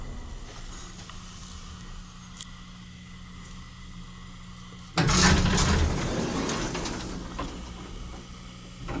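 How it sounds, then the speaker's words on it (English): An Otis elevator door at the Menger Hotel in San Antonio hums faintly in a quiet car before a loud rush of sliding motion and rumble kicks in about halfway through, then gradually fades. "Hear the door hum."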